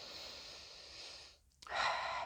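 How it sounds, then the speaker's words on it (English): One person inhales deeply and audibly, close and soft, with a brief pause before a louder airy breath. "So I take another breath for that."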